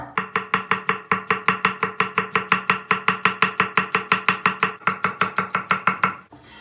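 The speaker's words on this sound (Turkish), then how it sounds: "Soğanımızı doğradık." Fast, steady knife chops on a cutting board as an onion is chopped, dozens of evenly spaced strikes in a brisk rhythm, close and loud, stopping near the end.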